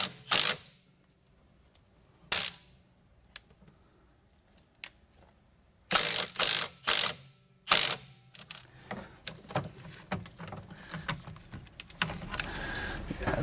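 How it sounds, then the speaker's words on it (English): An impact wrench works on Loctite-treated front suspension bolts of an E36 M3, giving several short, loud mechanical bursts close by, then lighter clattering and rattling of parts. "so I might have to use the impact again"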